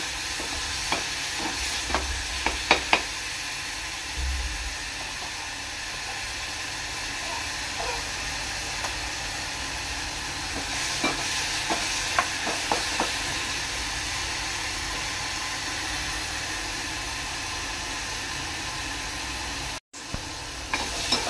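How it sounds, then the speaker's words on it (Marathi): Onion paste browning in a pan for an Agri-Koli style fried rice, giving a steady close sizzle and hiss with scattered spoon scrapes in small bursts, and a brief dropout near the end. "कांदा पेस्ट चांगली लाल करून घ्यायची आहे।"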